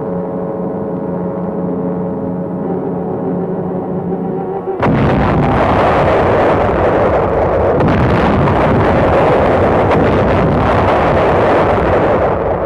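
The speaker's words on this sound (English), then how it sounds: "Guns of the 262-ship United Nations Armada began their point-blank preliminary bombardment." Naval gun bombardment from a 262-ship United Nations fleet off Wolmi island during the Inchon landing, an old documentary soundtrack: a droning tone gives way to a loud, continuous roar of heavy blasts and rumbling.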